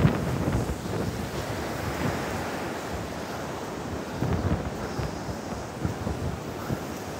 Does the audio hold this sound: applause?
no